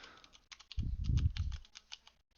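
Computer keyboard keys typed in a quick burst of clicks, close and fairly quiet, with a soft low thump under the middle stretch, no talking.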